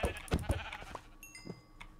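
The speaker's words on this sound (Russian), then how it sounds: "Я, короче, тупо убиваю овец," Sheep in the Minecraft video game bleat in a few short, close calls, quiet and clear, with faint game sound effects around them and no one talking.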